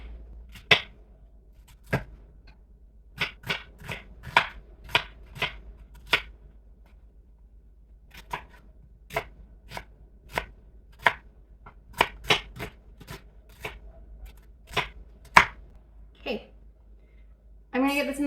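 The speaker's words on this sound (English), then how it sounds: "and then I will cut up the veggies" A knife chops zucchini, squash and onion on a cutting board in a quiet kitchen, with crisp separate knocks in irregular clusters and pauses.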